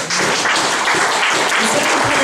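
A church congregation at a pastor's sermon breaks into loud, sustained applause, a thick wash of many hands clapping with faint voices mixed in throughout.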